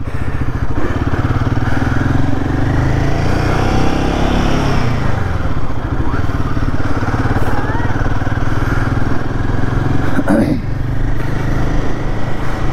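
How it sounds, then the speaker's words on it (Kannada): A Royal Enfield Himalayan 450 motorcycle on a weekend ride, its engine running in a steady drone with brief shifts in pitch, loud and close, with wind rush and someone talking over it. "ಗಾಡಿ ಮಾತ್ರ ಸ್ಮೂತು, ಬೆಣ್ಣೆ ಹೋದಂಗೆ ಹೋಗ್ತಾ ಇರುತ್ತೆ"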